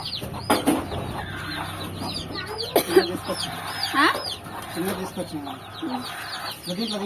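Backyard hens cluck and murmur close by in a village coop, with broody hens nesting under baskets and chicks around, irregular clucks and calls mixed with a person talking nearby.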